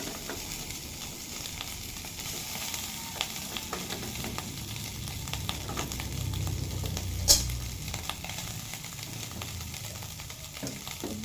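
Cooked rice frying in a pan gives a steady, close crackling sizzle, with scraping stir strokes throughout and no voices.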